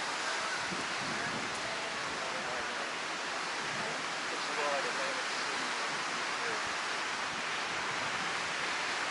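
Surf rolling onto Daytona Beach, Florida, a steady broadband wash of breaking waves with constant roar and no distinct pauses, heard alone.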